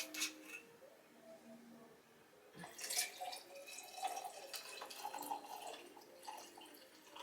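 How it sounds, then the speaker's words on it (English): Stella Rosa wine is poured into a cup, a faint trickling and dripping liquid sound with small splashes, quiet and close, with no voices. "let me pour up this cup"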